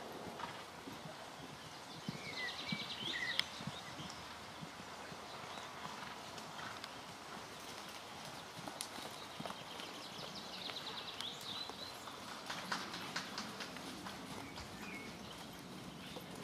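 Horses' hooves thud steadily across a riding arena during a dressage lesson, a soft continuous clip-clop of several horses moving in the middle distance, with occasional bird chirps and no talk.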